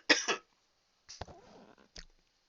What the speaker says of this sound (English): I just have to clear my throat.